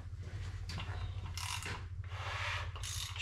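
A bare LS 5.3 V8 crankshaft being rotated by hand during block assembly, giving a close, rhythmic mechanical ratcheting and rubbing that swells in repeated bursts over a low steady hum.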